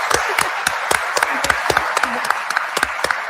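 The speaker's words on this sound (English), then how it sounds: "Let's have a round of applause for Beatrice." An audience at a disclosure forum watch party claps steadily. Sharp, distinct hand claps come at a brisk, regular rhythm and carry on alone for a few seconds.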